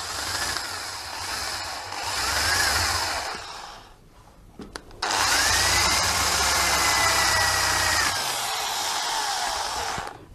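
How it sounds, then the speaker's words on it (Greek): A power drill with a 10 mm bit whines loudly and steadily while boring, stops briefly, then starts again for a second long, even run. "Αλλάζω πλέον τρυπάνι. Είναι 10 χιλιοστά το τρυπάνι μου."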